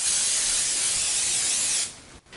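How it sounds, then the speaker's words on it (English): Oil sprayed from a can over the tops of food before it goes under the broiler: a steady close hiss for nearly two seconds, then cutting off, followed by a short quiet tail. "I'm gonna spray some oil on the top"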